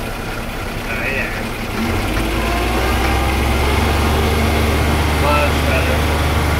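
A John Deere 2210 with a 47-inch snowblower attachment runs after a wobbling PTO repair, its engine droning steadily and loudly, with the low rumble rising as the PTO engages partway through.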